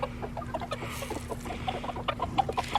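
Pet ducks being fed make soft, rapid quacks and chattering calls close by over a steady low hum, busy and continuous throughout.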